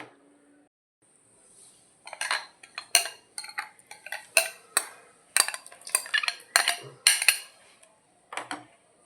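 A spoon scrapes and clinks rhythmically against a pan, stirring yogurt into a tomato curry, a dozen or so distinct stirring strokes close up, with no talking.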